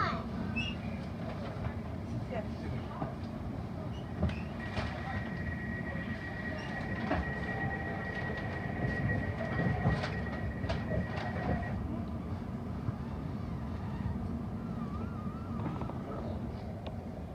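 TfL Rail train running from Liverpool Street toward Shenfield, a steady low rumble of wheels and carriage noise with occasional squeals and a sustained tone, voices faintly present under it.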